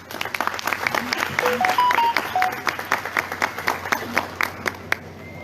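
Audience applause at a solemn council session honoring the mayor and a gaucho tradition center leader: dense, steady clapping from a room full of people, loud and continuous, with a few whistles rising above it.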